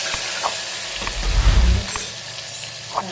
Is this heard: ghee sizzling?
yes